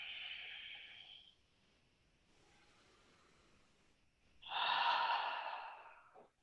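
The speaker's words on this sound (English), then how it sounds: "Breathe in like you're fogging the mirror, but with your mouth closed. Exhale through your nose." Slow, soft breathing during a yoga flow: a hissing nasal exhale, a quiet pause, then a second, louder breath through the nose, close and alone with no talk.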